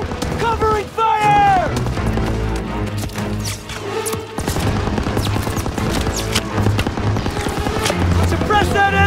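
Heavy suppressive gunfire in a Call of Duty WW2 battle, a dense, continuous fusillade of rifle and machine-gun shots with booming impacts, loud and close throughout.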